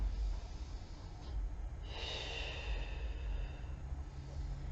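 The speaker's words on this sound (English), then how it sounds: "go ahead, breathe" A yoga instructor's breath during a morning yoga session, a single audible exhale or sniff-like breath near the middle over steady low room hum, close and soft with no talking.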